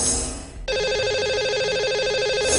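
A radio show rings a lucky caller on the phone: after a short quiet gap, a loud electronic ringback tone starts and repeats steadily in a fast warbling pattern, with no talk over it.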